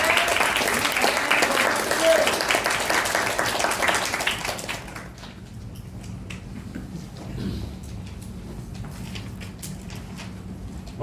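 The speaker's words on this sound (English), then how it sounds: "Now, everybody, please give a big clap hands for Toastmaster Will." Audience applause at a Toastmasters meeting in Vietnam, a loud burst of many hands clapping that fades after about five seconds into quieter room noise with scattered claps and murmurs.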